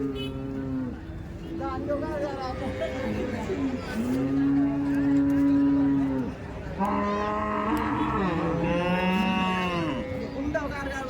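Cattle moo again and again at a Wednesday livestock market in Manapparai, Tiruchirappalli district, with loud, drawn-out lowing calls and a murmur of crowd chatter and voices behind them.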